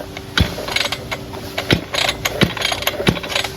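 A petrol brush cutter on a rural smallholding is being started, with several separate rasping ratchet pulls of the starter cord spaced a second or so apart, close by, without the engine catching.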